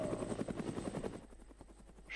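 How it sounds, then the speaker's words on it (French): A helicopter in DayZ, its rotor chopping in a rapid regular pulse that starts close and loud, then grows quieter as it recedes. "C'est un hélico."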